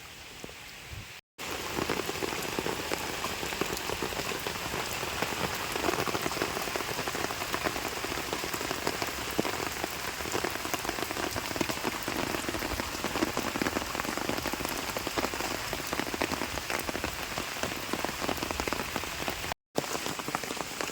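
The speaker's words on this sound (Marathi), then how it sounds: "यो कती पाऊस पडते तुम्हीच बघा" Heavy rain pours steadily across open rice fields at harvest time in Konkan, a dense continuous hiss of drops with no voices, briefly cutting out near the start and end.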